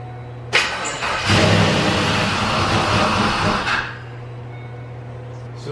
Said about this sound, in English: This is attempt number 4 to start the car.